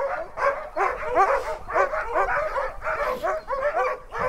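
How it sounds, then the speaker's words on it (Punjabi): Siberian huskies bark at a dog sledding camp in Russia: a dense, continuous chorus of many overlapping barks and yips, close and loud, with no voices. "ਬਹੁਤ ਜ਼ਿਆਦਾ ਕੁੱਤੇ ਆ ਵੀ ਉਰੇ"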